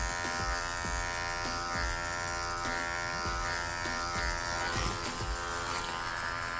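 Electric hair clipper held flat against the nape and neckline of a woman's head, cutting hair for a faux hawk style; a steady close buzz runs throughout with small rhythmic strokes and brief surges as the blade moves.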